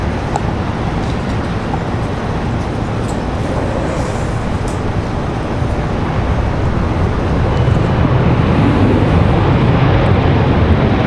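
A United airliner touching down at Washington Dulles airport, heard as a steady broadband roar of jet and wind noise that swells slightly louder toward the end, with no talk.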